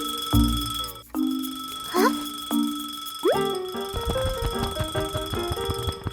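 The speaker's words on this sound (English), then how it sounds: "Suddenly, the clock starts ringing loudly." A cartoon alarm clock goes off in short bursts of bouncy, bell-like boings and dings, followed by a rising run of bright, playful tones, loud and without speech.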